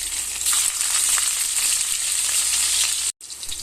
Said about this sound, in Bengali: এবার মুইঠাগুলো ছেড়ে আমি ভেজে নেব